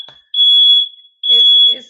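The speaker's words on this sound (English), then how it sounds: "that's just the fire alarm." A smoke alarm set off by cooking a fried breakfast of scrambled eggs sounds two loud, piercing high beeps, each about half a second long with a short gap between them.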